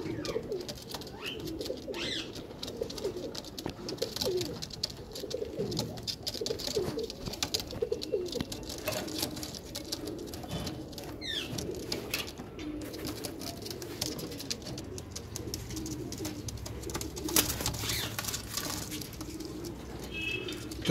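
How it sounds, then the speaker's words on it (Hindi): Madrasi black pigeons, a pair of cock and hen, cooing steadily over a busy, noisy background, their soft repeated coos running through the whole stretch. "और बहुत ही बेहतरीन बदन के ये कबूतर और कबूतरी हैं"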